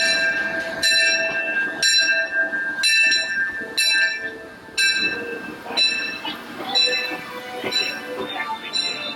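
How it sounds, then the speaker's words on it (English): A Disneyland Railroad train pulls into a station, with a bell ringing in repeated strokes over steady rail and carriage noise and a busy crowd murmuring nearby. "Let's ride the train over, because we can."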